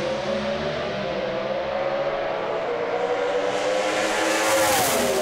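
Drag racing cars roar down the track in a sustained, loud, dense engine howl that holds steady and swells slightly toward the end, with no commentary over it.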